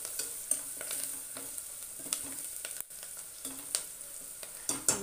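A spoon stirs turmeric into a moong dal and tomato curry in a hot pan, with a steady soft sizzle and repeated scraping clicks at an irregular pace, close and fairly quiet.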